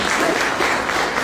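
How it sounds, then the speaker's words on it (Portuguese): A church congregation bursts into brief, dense applause in praise, a close, continuous wash of clapping with no pause. "Vamos aplaudir ao Senhor pela minha noite."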